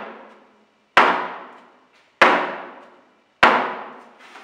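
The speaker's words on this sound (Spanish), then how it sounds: "Este movimiento, este sonido se llama golpes." Three sharp, loud flamenco golpe foot stamps strike the floor about a second apart, each ringing out with a short decaying room echo before the next.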